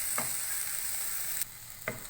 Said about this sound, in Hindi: इसमें शिमला मिर्च और प्याज शामिल करेंगे। इसको भी 1 मिनट फ्राई करेंगे इसके साथ।